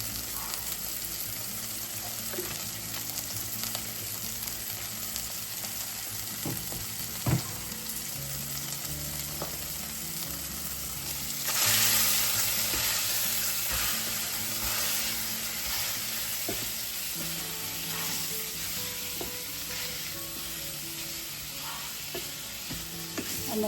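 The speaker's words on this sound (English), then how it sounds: "I'm going to go ahead and finish browning the meat" Meat browns in a pan with a pinch of crushed red pepper, making a continuous, even sizzle and crackle at moderate volume, with occasional stirring scrapes and a brief surge of hiss partway through.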